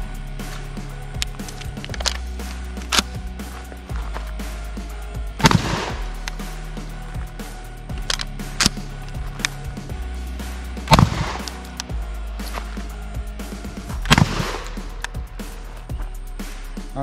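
IWI Tavor TS-12 semi-automatic shotgun firing buckshot at targets outdoors, three sharp, loud reports spaced several seconds apart over a steady low background hum.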